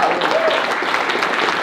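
Audience applause fills a debate hall for the closing statements of a Republican congressional primary debate, a steady, dense clapping sustained throughout at close range.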